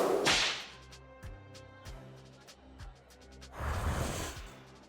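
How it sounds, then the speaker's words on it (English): Sharp bullwhip cracks in the video game Lil Guardsman ring out repeatedly at irregular intervals, punctuated by a couple of louder whooshing bursts, with no voices present. "Peaches really responded well to the crack of the whip"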